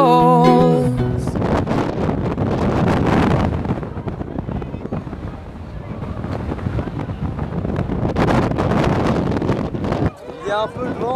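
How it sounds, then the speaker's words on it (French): Strong wind buffeting an outdoor microphone on a trip through Tunisia and Libya, a loud continuous low roar that swells and dips over about eleven seconds, with a brief drop near the end. "Il y a un peu de vent apparemment."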